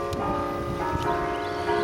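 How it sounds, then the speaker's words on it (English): A church bell rings at noon, its sustained metallic tones humming and overlapping in a brief, steady passage with no voices. "My bell ringer has a tendency to go mad at the height of noon."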